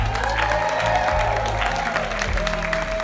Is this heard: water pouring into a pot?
no